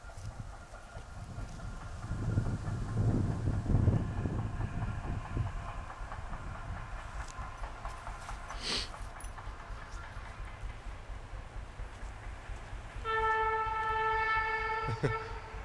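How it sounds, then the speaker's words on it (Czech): A train passes during an autumn walk, with a steady rumble and rolling wagon clatter building and fading, and a short, bright horn blast near the end. "Vlak jede."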